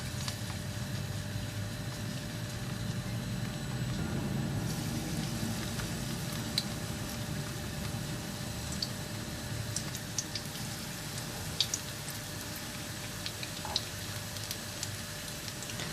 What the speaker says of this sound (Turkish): Evet hazır şimdi mücverlerimi kızartacağım.